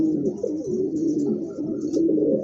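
A pair of pigeons coo steadily at close range in a pigeon shop, low throaty rolling calls repeating without pause.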